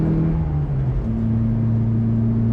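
A Classic Mini engine runs at full throttle in top gear with a steady, loud droning hum and a slight shift in pitch partway through, heard from inside the moving car.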